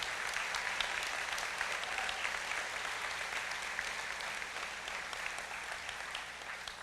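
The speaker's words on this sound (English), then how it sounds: "let's give them a big round of applause" Audience applause for the judges at a State of the Nation address, a continuous, fairly distant roar of many hands clapping that holds steady for several seconds with no speech over it.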